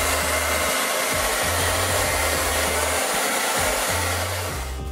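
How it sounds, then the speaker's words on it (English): Blow dryer on high heat drying freshly tie-dyed Vans sneakers: a loud, steady, close whooshing roar running throughout, with a low motor hum that dips and returns. "Get a blow dryer, put it on high, put it on hot, blow dryer."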